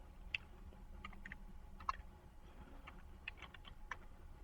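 Router command typed on a computer keyboard, a quiet, close run of irregular key clicks and taps spread over a few seconds, with no talk.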